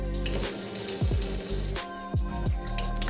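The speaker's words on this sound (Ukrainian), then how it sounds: "Змішувач Франке дає змогу увімкнути одним регулятором проточну воду, а іншим фільтровану." Water runs from a Franke kitchen mixer tap in an apartment kitchen in Kyiv. The stream is steady and continuous, with a few soft knocks or splashes breaking through it.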